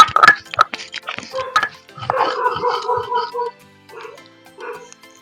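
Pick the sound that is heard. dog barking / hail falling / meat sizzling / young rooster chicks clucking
dog barking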